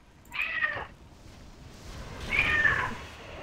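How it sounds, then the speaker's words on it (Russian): A cat meows twice, a short cry and then a longer drawn-out wail, fairly close, over quiet background noise. "У кого там кошак так рвется?"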